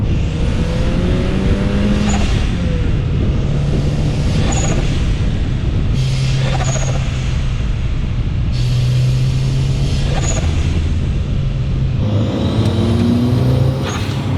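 A Toyota Celica GT-Four's turbocharged four-cylinder 3S-GTE engine roars and revs repeatedly, rising and falling in pitch with gear changes, loud and close, with whooshing bursts between pulls.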